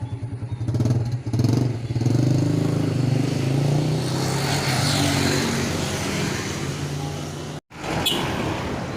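Motorcycle ridden on a test run after a front shock absorber repair, its engine droning steadily and close for most of the stretch, with a brief dropout near the end before the running sound returns.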